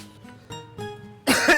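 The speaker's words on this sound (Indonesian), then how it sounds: "Abang batuk." A man gives a few rough coughs and throat-clearing sounds close by, which build into a louder, harsher cough at the end.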